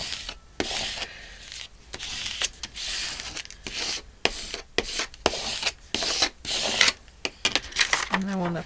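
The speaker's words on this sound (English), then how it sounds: "I want to take my little tool here and gently rub that." A small hand tool gently rubs across a flower journal page, giving soft, close scratchy strokes in short irregular bursts, with a brief voice at the end.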